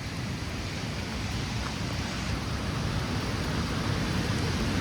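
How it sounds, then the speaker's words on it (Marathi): Savatkada Waterfall roars in a steady, loud, dense wash of broadband noise heavy in the low end, continuous and unbroken throughout with no voices. "धबधब्याचा आवाज बघ."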